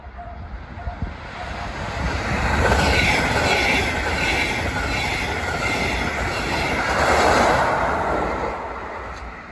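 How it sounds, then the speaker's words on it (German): A regional express train rolls past nearby without stopping, its rumble swelling twice with rattling wheels and faint squealing, then easing off. "Das war der Regionalexpress nach Fulda, der hier einfach durchfährt."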